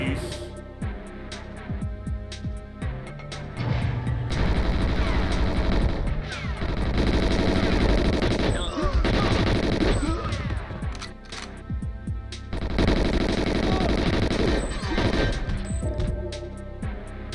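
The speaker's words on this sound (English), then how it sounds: "Holy fuck, who is shooting at me?" Gunfire and crashing impacts from the GoldenEye XBLA shooter game, with dense bursts of shots and blasts layered over game music, loud and sustained throughout.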